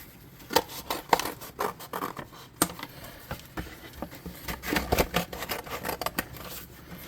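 Scissors being picked up and handled near a cheese-box cardboard, a series of sharp close snips, clicks and scratchy rustles in irregular bursts, with no talking.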